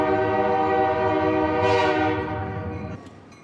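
A Cuyahoga Valley Scenic Railroad train in Northeast Ohio rolls past with its horn sounding a long, loud, sustained chord that swells midway and then cuts off as the rumble fades.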